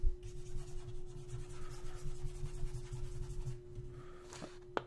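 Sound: erasing pencil writing on paper

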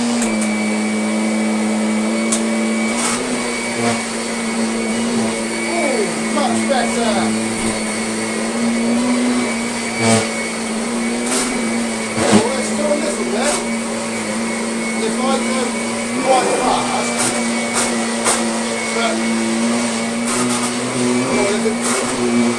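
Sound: Kirby Sentria 2 vacuum cleaner running on a rug after belt change

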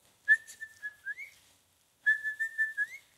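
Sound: person whistling, imitating a bird's song

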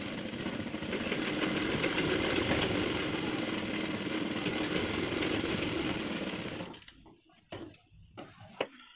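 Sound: sewing machine stitching fabric strip for latkan

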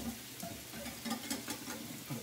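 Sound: stirring and mixing a seasoning blend

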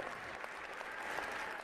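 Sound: applause for an award winner

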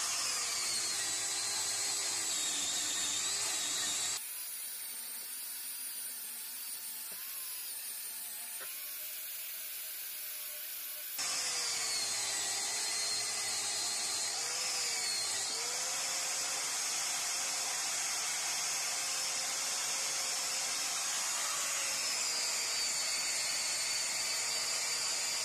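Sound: knotted wire brush stripping paint off a Record vise

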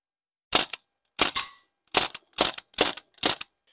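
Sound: CO2 MP40 airsoft gun shooting

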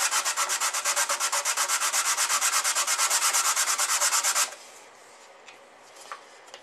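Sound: sanding the sides of a wooden box by hand

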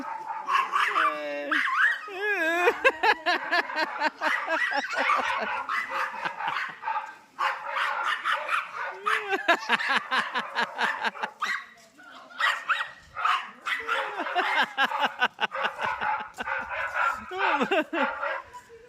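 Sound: dog barking

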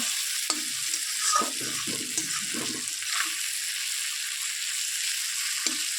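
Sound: fish being stirred and fried in oil

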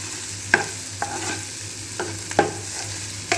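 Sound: coconut, coriander, coriander seeds and green chillies frying in a pan

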